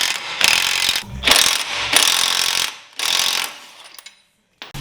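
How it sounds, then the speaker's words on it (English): A ratchet wrench works loose the front axle hardware on a 2005 Subaru Legacy GT, four loud bursts of rapid metallic clicking separated by short pauses, close by, ending in near silence with a final brief click. "So now we're taking out the two front axles."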